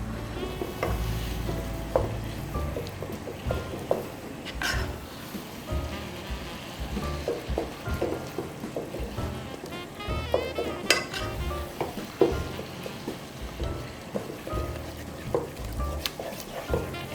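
Yogurt-marinated goat meat sizzles in a pan over high heat, with steady frying hiss broken by frequent close scrapes and clinks as a utensil stirs it.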